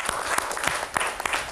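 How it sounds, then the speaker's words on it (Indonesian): A short burst of lively applause from an audience at a Javanese ruwatan ceremony, individual claps standing out irregularly in a close, busy patter. "Ayo, tepuk tangan."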